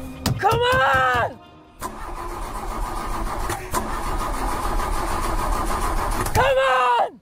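A car engine cranks with a whining starter but doesn't catch, then cranks again after a rough rumble; voices are heard around it.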